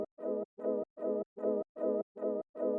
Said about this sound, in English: I added in this synth stab in